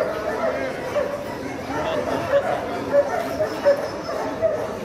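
Puppies at a busy Friday street dog market yip and whimper in short high bursts, mixed into a dense crowd of chatter and voices talking nearby.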